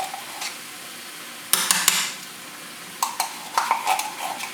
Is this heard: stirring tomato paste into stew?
yes